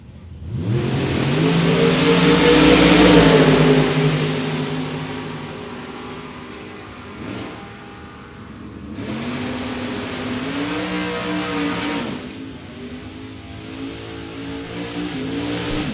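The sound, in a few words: 1941 Willys and Chevrolet Chevette drag racing, revving engines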